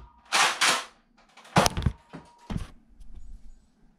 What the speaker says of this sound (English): I got my Fortnite tactical shooter back there. Yes, it does work.